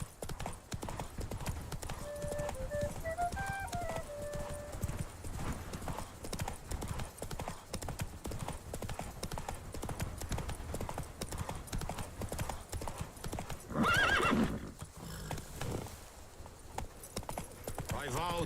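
Roach, a horse in The Witcher 3, gallops with a rapid, steady clip-clop of hooves that runs the whole way through, with a brief whinny-like burst near the end and game music underneath.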